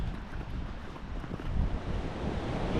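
Surf washing onto a sandy North Sea beach at Cambois, Northumberland, a steady broadband wash with gusts of wind buffeting the microphone, swelling slightly louder in the second half, no voices.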